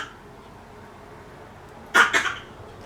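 A person fakes a cough, two short harsh coughs in quick succession that break a quiet indoor background near the end.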